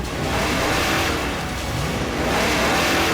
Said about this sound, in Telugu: త్వరగా త్వరగా త్వరగా కారు పోనివ్వు